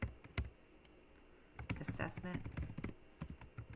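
Keys clatter on a computer keyboard in quick irregular bursts, faint and close, while a person talks over part of the typing.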